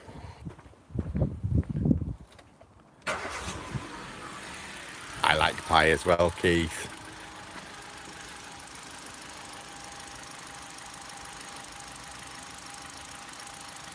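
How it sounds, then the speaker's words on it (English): A car engine cranks and starts, then settles into a steady idle. Someone speaks briefly before the start. "Let's go and start the car up."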